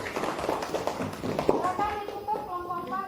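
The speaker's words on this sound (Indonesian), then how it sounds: "Berikan tepuk tangan untuk kelompok 4." Applause from a classroom of pupils for group 4 after their presentation, a burst of scattered clapping in the first half that fades as children's voices carry on.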